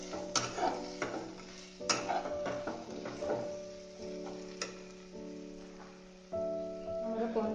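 Paneer spring roll filling being stirred in a pan, a spoon scraping and tapping the metal at uneven intervals over a steady low hum and soft sizzle, close and moderately loud.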